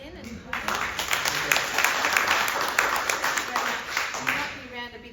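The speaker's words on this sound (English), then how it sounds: "So a big applause for Steve again" Steady audience applause at a coffee-and-friends gathering, dense clapping from a room full of people lasting several seconds, with voices talking faintly underneath.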